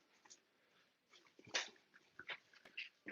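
A dog whimpers and gives short yips and barks in bursts at a home, the sounds coming fairly close with quiet pauses between them and no talk.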